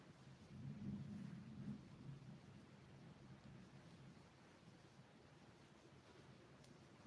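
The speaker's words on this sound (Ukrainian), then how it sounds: "Який у нас файний дощ пишний." Rain falls outside as a faint, steady wash of patter, with a low rumble swelling briefly near the start.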